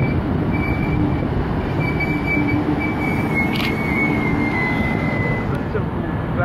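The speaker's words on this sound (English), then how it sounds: "We have a Newcastle interchange service arriving into platform number 1." A Newcastle Interchange service train pulls into a platform at Sandgate station, its loud, steady rumble of wheels on track joined by a high, thin wheel squeal and a brief hiss of air.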